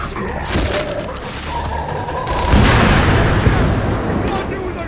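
Heavy turret gunfire and booming blasts in Gears 5, dense overlapping bursts that swell midway into a loud, continuous rumbling barrage, with game dialogue mixed in.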